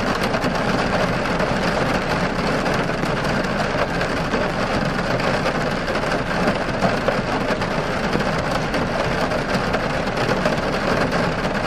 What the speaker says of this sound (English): For what reason is it raining this aggressively?